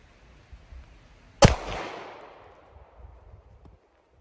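A single sharp shot from a Sig P226 Zev pistol cracks out close and loud, its echo trailing away for over a second before the quiet returns.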